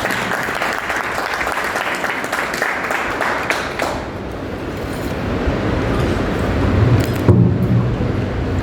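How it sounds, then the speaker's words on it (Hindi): Loud, sustained audience applause at an office celebration and training event, dense clapping throughout with crowd noise and rumble swelling beneath it in the later part. "एक बार जोरदार तालियां बजा दें।"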